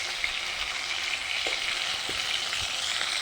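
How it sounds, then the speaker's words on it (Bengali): Pieces of rohu fish fry in a pan over a wood fire, giving a steady, dense sizzle throughout with a few faint clinks, close and fairly loud with no talking. "রুই মাছ নিয়েছি 3 পিস, ভালো করে ভেজে নিচ্ছি।"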